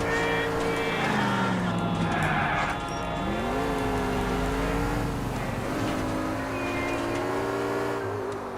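A car drives in the video game L.A. Noire, its engine holding a steady drone that dips and rises as it shifts and revs over a continuous rumble, with no speech.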